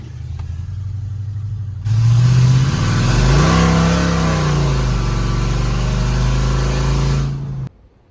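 A 32-year-old Ford F-150 pickup, revived after sitting over ten years, revs hard and spins its tires on a test drive, with a loud engine roar that rises and falls for about six seconds before cutting off abruptly.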